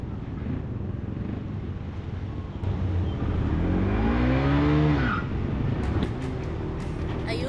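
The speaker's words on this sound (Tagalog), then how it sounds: "rinig nyo naman na tunog pangamba ang tunog ng aking motor" A flood-submerged Honda ADV160 scooter engine cranks and catches, then revs up and idles roughly, running loudly and close by.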